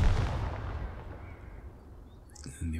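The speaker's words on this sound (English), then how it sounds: "Let's shoot with the machine gun first. I miss. And then we'll fire HE." A high-explosive tank shell fired in the World War II strategy game Second Front, a heavy booming blast that rumbles and slowly decays, followed by a short burst of higher game sounds near the end.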